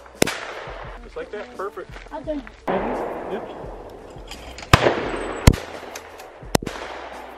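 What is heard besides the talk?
gunshots at a shooting station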